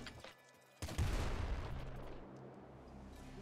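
A triple machine gun firing in the Nuclear Throne video game, a sudden burst that starts abruptly and settles into a sustained roar of rapid fire, fairly quiet overall.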